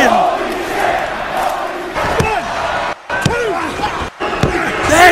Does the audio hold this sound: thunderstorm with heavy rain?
no